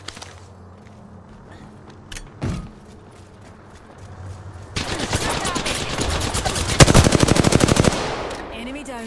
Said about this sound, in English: Enemy spotted. Pulling the trigger.